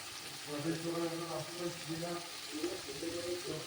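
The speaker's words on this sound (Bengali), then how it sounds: "আবার ভালো করে মশলাটাকে কষিয়ে নেব" Spice paste with salt and turmeric sautéing in oil for a chicken stomach and liver curry, a steady soft sizzle running throughout beneath a voice.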